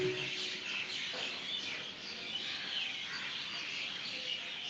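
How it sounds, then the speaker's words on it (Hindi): Birds chirp and sing all around during an outdoor meditation session, a soft, continuous layer of tweets at a moderate distance with no talking. "चारों तरफ से आती हुई पक्षियों की आवाज, प्रकृति का जागरण"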